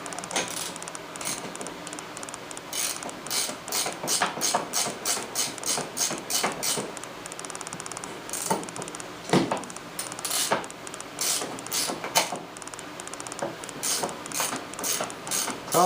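A wrench ratchets and clanks against the ball joint of a 2003 Ski-doo MXZ snowmobile, giving close metallic clicks and knocks in irregular bursts, with no talking.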